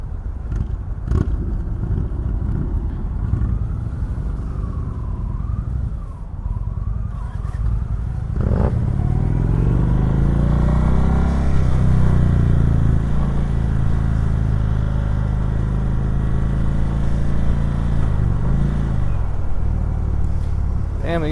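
A 2019 Indian motorcycle engine idling and then revving up on a demo ride at Indian of South East VA, a loud steady throaty drone that rises and falls with throttle blips, with wind noise throughout.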